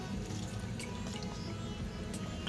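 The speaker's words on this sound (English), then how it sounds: "And I'm going to squeeze out all the excess water from it" Boiled onions, rinsed in cold water for a cheese and onion pie, are squeezed by hand so excess water drips and trickles into a bowl. The soft, steady patter sits over a constant low kitchen hum.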